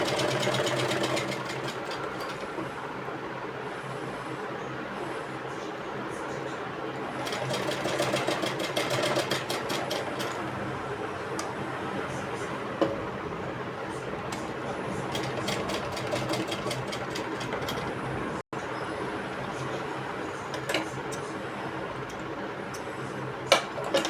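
Sewing machine running steadily while stitching along the edge of a trouser pocket, a continuous close mechanical whir with ticking rhythm and no speech.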